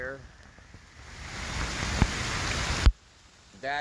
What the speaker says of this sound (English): the rain is really getting my phone wet